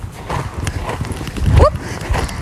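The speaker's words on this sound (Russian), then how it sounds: "И снова подъем в галоп." A horse canters during show jumping training over poles and cavalletti, its hooves thudding in an even, rhythmic clip-clop at close range, with a brief whinny-like squeal and faint talk in the background.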